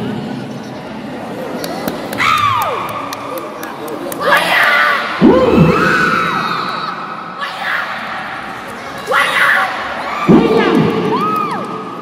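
Crowd at a kempo martial arts event in Gorontalo cheering and shouting in repeated loud swells, with thuds and bursts of applause-like noise over a steady background of voices.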